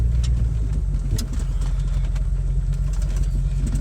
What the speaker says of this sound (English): First time properly off-roading in the truck.